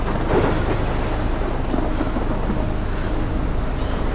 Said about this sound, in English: The leaves blowing in the wind. Like the rain and everything.